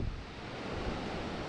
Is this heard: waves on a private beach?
yes